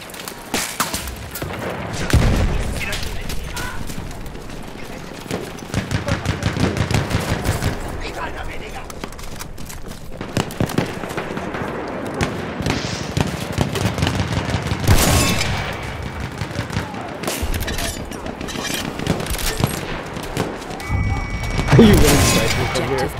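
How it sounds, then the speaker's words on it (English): Anti-tank rockets fired in the video game Battlefield 1, repeated loud thumping blasts amid scattered gunfire and battlefield noise, with a player talking throughout. "I'm just firing off my AT rockets while I can"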